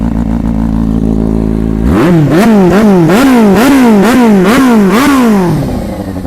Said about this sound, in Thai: เห็นท่อเสียงดังแปลกๆ มันมีแคทนะ มีแคทมันดังอยู่ข้างใน